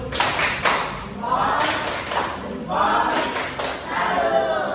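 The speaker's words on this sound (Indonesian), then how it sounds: "kita beri tepuk salut dulu untuk teman kalian ini" A school class claps a rhythmic 'tepuk salut' cheer for a classmate in several sharp bursts of hand claps, with voices chanting along.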